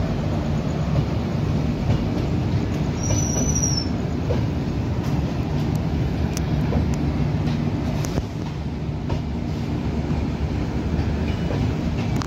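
A Danapur–Pune Superfast Express train passes close by at an Indian railway station, a steady loud rumble and rattle of wagons with a brief high wheel squeal, the noise holding level throughout.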